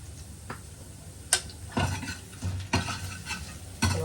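Ginger and green chilli fry in ghee in a pan, a soft sizzle broken by several sharp scraping strokes of a spoon stirring them, close and uneven.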